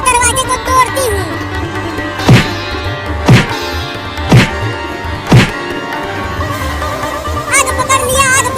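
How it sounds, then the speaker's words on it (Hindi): In a cartoon, a jammed house door is struck four times in a steady rhythm, each blow a loud sharp thump, with a voice and background music around the hits. "मैं दरवाजे को तोड़ती हूँ"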